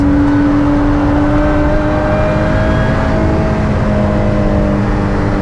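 A Lotus Exige S engine drones loud and close on the Nürburgring, holding a sustained high-revving tone with slight pitch shifts as gears change, steady throughout with no talk.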